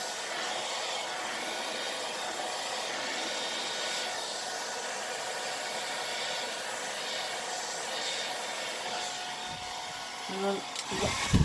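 A hair dryer blows with a steady, loud whooshing roar that barely changes, ending with a few soft clicks and bumps, while drying alcohol ink artwork.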